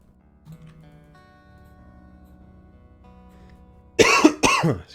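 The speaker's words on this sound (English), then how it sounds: "Can I ever stop coughing?" A person coughs twice in quick succession, two loud harsh bursts close to the microphone, following a stretch of quiet background game music.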